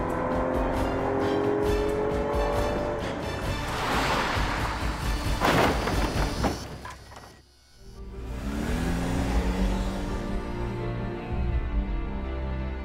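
A car speeds down a deserted street, its engine roaring loudly and steadily, briefly dropping away before the motor noise surges back, close and continuous with no talk.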